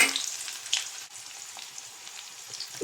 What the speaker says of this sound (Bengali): লাল লাল করে পেঁয়াজটা ভেজে নেবো